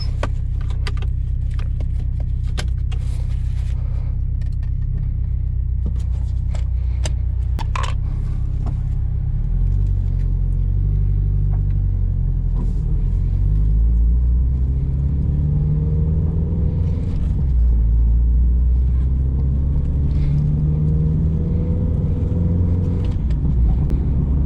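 Steady low engine rumble from inside a Subaru Impreza WRX STi Ver.9 while driving, loud and continuous, with a few soft clicks and rattles early on and the drone shifting slightly in pitch.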